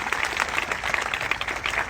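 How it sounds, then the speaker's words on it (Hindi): A crowd at an outdoor election rally in Buxar applauds in a quick, scattered patter to welcome a candidate. The clapping is fairly soft and slightly distant, and no one talks over it. "जोरदार ताली बजा के इनका स्वागत करिए"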